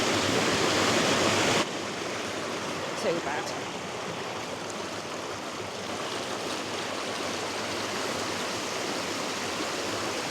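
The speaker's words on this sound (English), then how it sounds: "Little bit of a river crossing here." A moorland stream rushes loudly and steadily at a river crossing on the Pennine Way, a dense broadband wash close by, with a brief voice heard over it.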